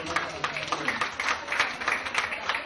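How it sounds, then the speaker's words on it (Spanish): Audience clapping at a conference, a quick run of sharp, closely spaced hand claps forming continuous moderate applause, with voices mixed in. "Muy bien, un aplauso."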